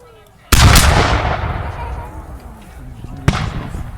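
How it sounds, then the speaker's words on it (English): British artillery cannons fire at a Revolutionary War reenactment: two loud, sharp booms about three seconds apart, the first followed by a long rolling echo, heard outdoors. "Some answering shots from the British artillery."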